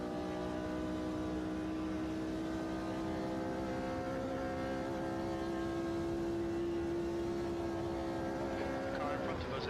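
Several 1960s Formula 1 race car engines drone steadily in the Automobilista 2 racing game as a pack of cars runs together, with sustained high-pitched engine tones rising slightly near the end.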